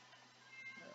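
A pet cat gives a brief, faint meow indoors, a single soft call over a quiet background hum.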